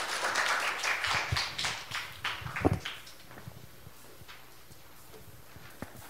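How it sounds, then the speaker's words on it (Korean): An audience at a lecture applauds to welcome a speaker, a moderate burst of clapping that fades after a few seconds into quieter scattered taps and room noise. "박수로 환영해 주십시오"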